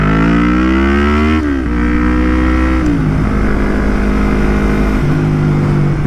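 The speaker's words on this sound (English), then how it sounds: "these downshifts are exactly what I wanted them to sound like." Yamaha MT-03 motorcycle with a full Akrapovic exhaust downshifting, loud and close, its engine note stepping down sharply through several gear changes with blipping revs and a raspy roar throughout.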